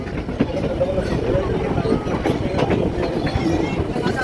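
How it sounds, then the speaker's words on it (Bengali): Chitra Express passenger train running just after leaving Ishwardi junction in Bangladesh, heard from aboard as a steady, loud rumble with faint rail clatter, with voices murmuring in the background. "চিত্রা এক্সপ্রেস ঈশ্বরদী জংশন ছেড়ে আসলো"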